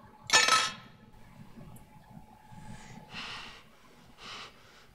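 Heavy breathing from a film scene: a sharp loud gasping intake at the start, then quieter ragged breaths in short bursts, close and otherwise alone.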